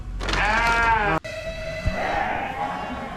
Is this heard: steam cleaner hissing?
no